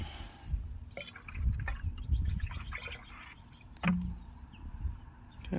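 Garden spray concentrate being mixed into water in a greenhouse: quiet sloshing and dripping liquid with a few soft clunks of containers, intermittent and close, with faint bird calls in the background.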